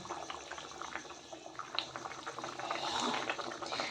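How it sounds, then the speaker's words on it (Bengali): Soft bubbling and gurgling of a katla fish curry simmering on the stove, low and continuous, swelling slightly toward the end. "এবারে ঝোলটা বেশ ভালো করে ফুটে উঠলে এটাকে এখন নামিয়ে নেব"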